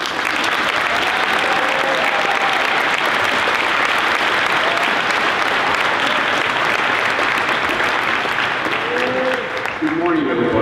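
Audience at a Veteran's Day 2016 event clapping steadily to welcome a speaker, a dense, loud, continuous wash of applause that fades near the end as a voice begins.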